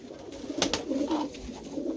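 Inside a coop at evening, a pigeon gives a few soft, low coos, fairly faint against a quiet background, with a couple of brief sharp knocks partway through and no speech.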